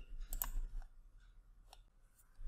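A computer mouse click on a Refresh button in a website admin page, a couple of faint, sharp clicks close together near the start, with another soft tick later over low background hum.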